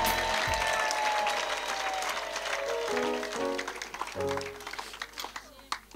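Church congregation clapping for Jesus, sustained applause across the whole stretch with music and talk mixed underneath, fading into scattered claps near the end.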